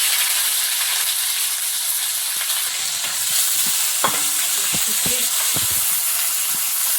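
Turmeric, panch phoron, garlic and ginger fry in hot oil, a loud dense hiss that holds steady throughout, with a few sharp clinks of a utensil near the end and no speech.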